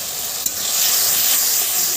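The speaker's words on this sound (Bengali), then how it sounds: "কুচিয়ে রাখা টমেটো দিয়ে ভালো করে নেড়ে নিচ্ছি।" Chopped tomatoes fry in spiced oil for an aloo kochu fish curry, giving a loud, dense sizzle that swells after a brief utensil knock as the mixture is stirred.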